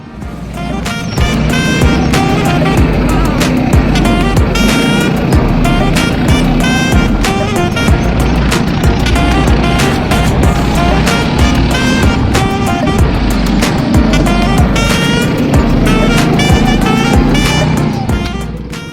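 A rally car driving hard on a wet track at Roquebrune, loud and close, with continuous engine roar, revving and spray-like noise throughout, no clear speech.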